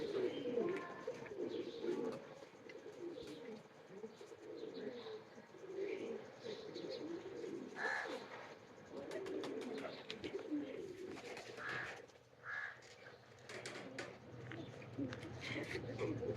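Teddy cross pigeons from a breeding loft coo in low, rolling calls close by. The cooing continues through the stretch under faint speech and light background chirps.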